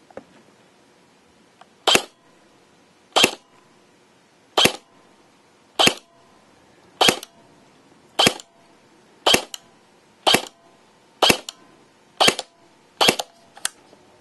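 An Elite Force M4 CQC airsoft gun fires 0.2 gram BBs on a 9.6 volt battery, eleven sharp, loud single shots spaced about a second apart with a faint mechanical whir between them and no voices.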